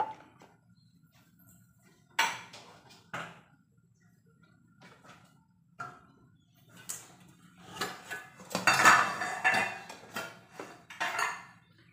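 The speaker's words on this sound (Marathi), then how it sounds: "कुकर ठेवला आहे" Pots and cutlery clatter on a stove while a pressure cooker is set up with oil for tempering, for a Maharashtrian shengule dish; scattered sharp clanks and scrapes come close by, building into a denser burst of metallic rattling near the end.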